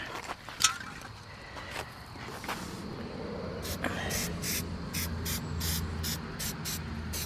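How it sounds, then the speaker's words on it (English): Rust reformer sprays from a can onto the joints of a 1991 Mitsubishi Delica Exceed turbo diesel 4x4. Several short hissing bursts come in a quick, fairly regular rhythm over a low background hum. "put a little bit of rust reformer just on these joints"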